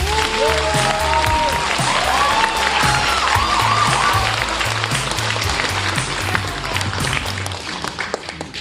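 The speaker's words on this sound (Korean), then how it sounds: "더불어민주당 양천갑 국회의원 황희 의원님 박수 부탁합니다" An audience at a local residents' meeting about apartment zoning applauds a National Assembly member as he is introduced, with loud, sustained clapping and some cheering. A few tones and a rhythmic low thumping sound underneath.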